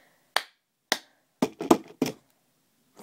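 A cup tapped and clapped on a hard surface in the cup game: sharp, isolated knocks and claps in an uneven rhythm, two spaced hits, then a quick cluster of three or four, close and dry against silence.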